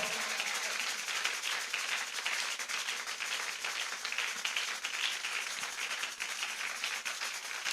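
A church congregation applauds and acclaims the Lord during a Sunday Easter service, a faint, continuous wash of scattered clapping heard from a distance with no clear voices on top.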